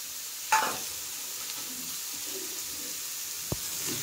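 Ginger-garlic paste sizzles softly in a pan as it is stirred into spices, with a sharp utensil knock near the start and another clack later over a low, steady frying hiss.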